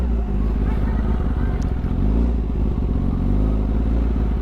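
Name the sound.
motorcycles passing on street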